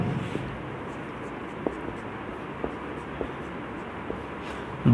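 Marker or chalk writing on a board during a chemistry class, faint scratching strokes with occasional soft taps, under a steady background hiss.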